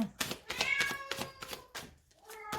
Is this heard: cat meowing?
yes